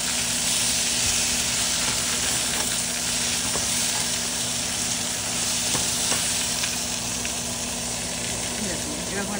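A mixed vegetable curry with potato frying in a pan, a loud continuous sizzle and hiss with faint stirring scrapes throughout.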